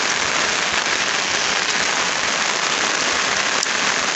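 Heavy rain pours steadily over floodwater where a China net is used for fishing, a dense, loud, unbroken hiss of drops with no voices.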